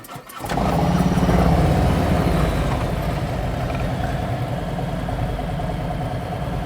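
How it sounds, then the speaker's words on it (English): Several motorcycles at an advanced slow-speed practice session start up together with a sharp burst, then settle into a loud, steady, close idle that continues alone. "Competitors, start your engines."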